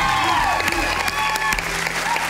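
A TV talent show audience applauding a singer, loud sustained clapping filling the room, with sharp individual claps and voices mixed in.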